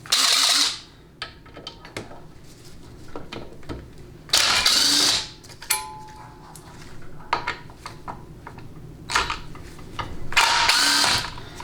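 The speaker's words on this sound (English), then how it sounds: "make sure you press on your impact a little bit and get that socket deep into the bolt head" Impact wrench spinning out Torx 40 bolts on the shift cable bracket of a 4L65E transmission, three loud whirring bursts spaced apart, with clicks and handling clatter of tools between them.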